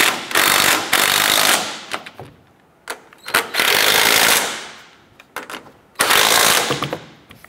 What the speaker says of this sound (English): Let's go ahead and snug down our upper strut nuts here.